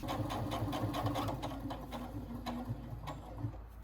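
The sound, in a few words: sewing machine seaming a tissue box cover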